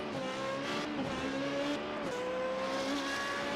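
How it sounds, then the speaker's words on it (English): Formula 3.5 race car in a sim racing game at Suzuka, its engine holding a steady high-pitched whine with rising and falling gear changes, loud and continuous with no talk. "I'm just listening to the sound of this car"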